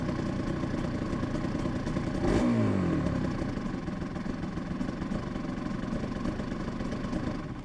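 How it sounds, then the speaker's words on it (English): A Yamaha TZR 250 3XV two-stroke motorcycle, freshly rebuilt, idles steadily up close with a busy, rattly low-pitched burble that holds even throughout, with one brief blip partway in. "Well, it's idling now."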